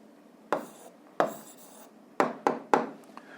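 Pen strokes on paper while an answer is written down, five short scratchy bursts spaced irregularly and heard close in a quiet room.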